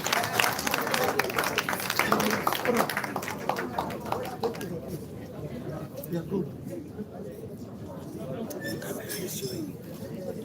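Audience clapping for an award presented to Sir Akewumi Akifenwa at a Lagos seminar, a strong burst in the first few seconds that fades into murmuring crowd chatter with clinks.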